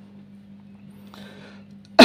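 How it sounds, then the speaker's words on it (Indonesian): A single sharp cough bursts out at the very end, loud and close, after a long quiet stretch of faint room hum during a math lesson. "Batuk."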